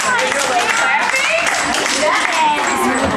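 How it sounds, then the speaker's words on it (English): Children at a library Christmas storytime clap along to a song, a continuous busy patter of small hands mixed with singing voices throughout. "Everyone clap. Everyone clapping."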